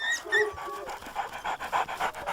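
A dog pants in quick, steady rhythmic breaths, close and fairly loud, with no talk over it.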